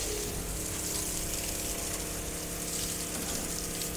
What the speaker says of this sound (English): So just the high flow gun on small half inch hose.